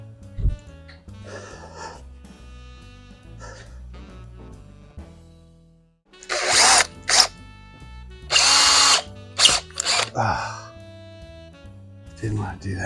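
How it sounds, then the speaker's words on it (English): A power drill bores a hole in a wooden end table in a home garage, several loud bursts of whirring in quick succession after a quieter stretch, with a voice talking in between. "you can just kind of snap drill it with this guy a little bit"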